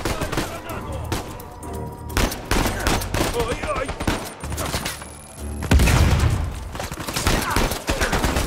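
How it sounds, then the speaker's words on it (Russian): Dense gunfire pours in from several directions during an Uncharted 4 firefight, with rapid overlapping shots and bursts running throughout, heavier impacts near the end, and a voice occasionally underneath. "Так они со всех сторон стреляют."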